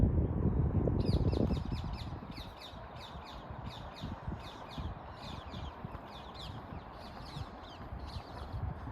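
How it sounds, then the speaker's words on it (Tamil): Small birds, such as sparrows and a cuckoo, chirp in quick repeated bursts on a morning walk, moderately near, over a steady outdoor background with a low rumble at the start. "இப்படி 2 பக்கமும் பறவைங்களோட சத்தம் கேட்டுக்கிட்டே இருக்குது"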